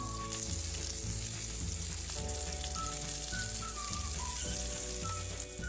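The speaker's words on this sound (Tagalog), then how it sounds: "Igisa lang natin yung kamatis hanggang sa lumambot." Tomatoes sautéing in a pan for pork binagoongan, a steady close sizzle with soft stirring and scraping over a constant frying hiss, no talking.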